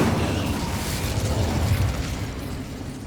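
An Incendio fire spell cast in the Hogwarts Legacy video game, a loud, dense whooshing burst of flame that roars steadily for about three seconds with a heavy low rumble and no voices.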